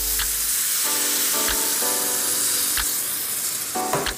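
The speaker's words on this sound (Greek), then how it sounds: "Σβήνουμε με λευκό κρασί." White wine poured into a hot frying pot to deglaze, a loud steady sizzle with hissing steam, broken by a few clinks and scrapes of a utensil against the pot.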